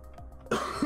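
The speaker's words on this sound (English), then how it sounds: "sorry about the coughing, really." A man with a cold gives a single harsh, throaty cough close to the microphone, a rough burst after a brief quiet intake, followed by a short, lower second push.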